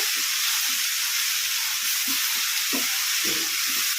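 Gongura (pundi) leaves frying on a medium flame for chutney make a continuous bright sizzle and hiss, broken by soft periodic stirring scrapes, with no voices.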